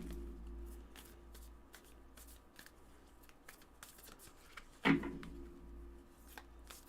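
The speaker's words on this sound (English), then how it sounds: "I'm going to do another shuffle for y'all on camera" A deck of tarot cards being shuffled by hand, soft repeated riffling and sliding taps in quick bursts, close and quiet, with one sharper louder card snap midway.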